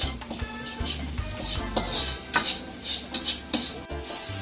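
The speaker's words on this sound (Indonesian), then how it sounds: "Oke, ini dia ditumis." Capcay vegetables are stir-fried in a pan, a metal utensil scraping and clinking against it in quick irregular strokes over a soft sizzle, close and moderately loud.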